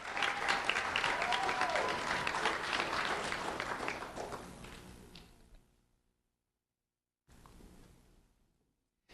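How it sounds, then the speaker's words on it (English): Applause from an audience at a school award ceremony held by the Lee County Sheriff's Office, dense clapping that gradually fades out, then a brief quieter burst after a short silence. "Let's have a round of applause for Jeremiah Prey."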